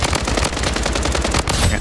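Rapid machine gun fire from a video game shooter, a dense continuous burst of loud, closely spaced shots filling the whole stretch with no pauses.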